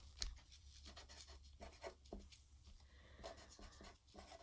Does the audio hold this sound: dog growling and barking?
no